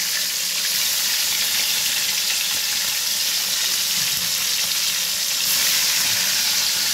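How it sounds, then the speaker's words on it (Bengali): Fish pieces frying in hot oil in a wok, a loud dense continuous sizzle, close and unbroken, with a slight surge near the end. "বাকি মাছগুলোকে যতটা পারবো একে একে ছেড়ে দেবো, তারপর সব মাছ ভেজে নিয়ে তেল ঠিক নেবো"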